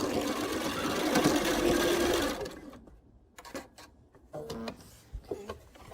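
Home sewing machine stitching a quilt seam on a chained stars quilt, running as a steady, loud mechanical whir for about two seconds, then stopping, followed by quieter fabric handling and small clicks.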